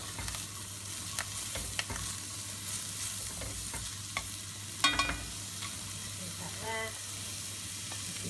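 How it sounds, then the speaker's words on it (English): Leeks and ginger frying in oil in a pan, a soft continuous sizzle with intermittent scraping and tapping stirs, close and moderate in volume. "So the leeks and the ginger, we'll just soften those down"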